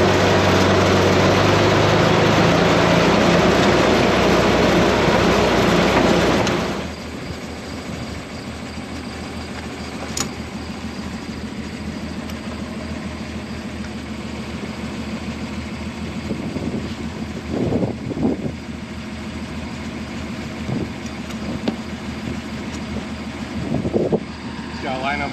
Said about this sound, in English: The traffic on this road has been nuts all summer long.